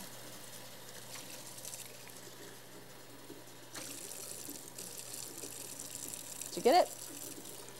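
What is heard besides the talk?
rinsing pepper seeds out under a sink tap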